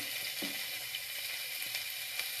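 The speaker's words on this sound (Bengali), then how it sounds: "এবার এই তেলের মধ্যে আমি আলু আর বেগুনগুলো একটুখানি নুন" Potato and eggplant pieces fry in hot oil with a pinch of salt, giving a soft continuous sizzle with a few faint crackles and light pops and no talking.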